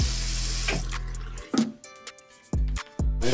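Water from an apartment sink faucet runs through a freshly cleaned aerator in a loud, steady gush for about a second and a half, then cuts off and returns in short, strong bursts.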